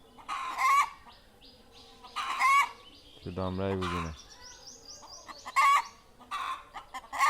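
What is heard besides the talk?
chickens squawking in distress after one was slaughtered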